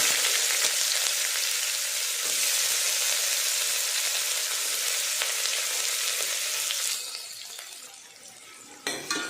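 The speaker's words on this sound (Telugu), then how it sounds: "ఆయిల్ వేడైంది, కొంచెం షాజీరా వేస్తున్నాను. ఉల్లిపాయ పచ్చిమిర్చి," Shahjeera, onion and green chilli fry in hot oil for a mutton gravy curry, giving a loud, continuous sizzle for most of the clip. It then quietens, and a brief clatter of a utensil follows.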